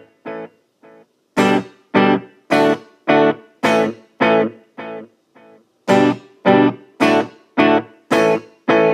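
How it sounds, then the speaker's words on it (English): Electric guitar with a delay effect plays short chopped chords, each strike followed by quieter repeating echoes in a steady rhythm, loud and close, with no talking. "Reverb and delay is the same as reverb, except the sound repeats itself."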